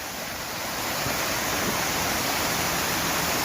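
A loud, continuous broadband roar of rushing water, steady and unbroken, like a nearby waterfall.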